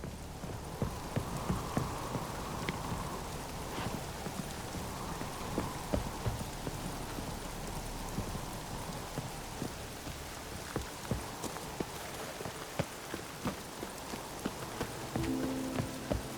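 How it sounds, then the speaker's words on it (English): Steady rain pours down in The Witcher 3: Wild Hunt, a soft continuous hiss, while horse hooves clip-clop in an even rhythm through it, all fairly quiet. "Raining fucking buckets."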